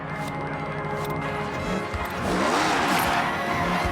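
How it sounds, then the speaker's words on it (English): A Honda Beat engine in Forza Horizon 6 revs up and down in quick rising and falling sweeps on a drift track, loud and close, over a steady mechanical hum with some squealing tire noise. "Oh my god, it revs so quick."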